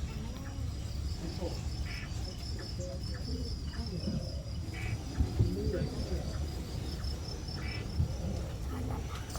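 A dense chorus of crickets chirps at night in a forest, steady and continuous throughout, with a bird or duck-like calls and faint rustles scattered in the background.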